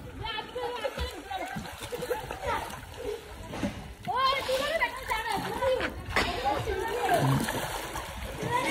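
Pool water splashes and sloshes as people at a farmhouse plunge in for a breath-holding challenge, with repeated splashes mixed with excited shouting and chatter throughout.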